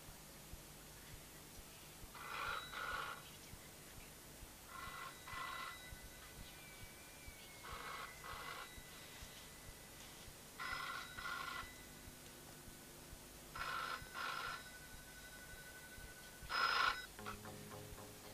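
An old telephone bell rings in repeated short bursts with pauses between, faint and in a quiet room, with no voices over it.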